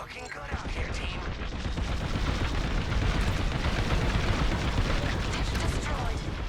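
A destroyed dish blows apart in a Star Wars Squadrons space battle, a dense sustained roar of blasts and rapid fire that swells and stays loud, with game radio chatter mixed underneath.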